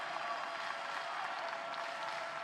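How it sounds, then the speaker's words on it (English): Baseball crowd in a Tallahassee stadium cheering and applauding in extra innings, a steady, dense roar of many voices and hands holding at an even level throughout. "Crowd on their feet here in Tallahassee."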